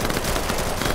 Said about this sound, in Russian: Прикольно, да, звук выстрелов они дают такой?